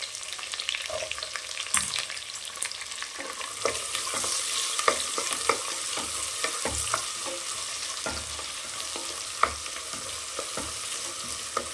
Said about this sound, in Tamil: நல்லா இந்த வெங்காயம் வதங்கி வரட்டும்